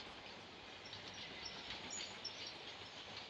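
A train in the battle-royale game PUBG gives off a steady, dense rumble with a faint high hiss, running evenly throughout with no distinct horn or voices.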